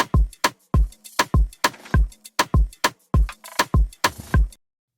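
A programmed drum groove loops, punchy kicks alternating with sharp rim shots in a tight, repeating pattern, close and dry, stopping cleanly at the end.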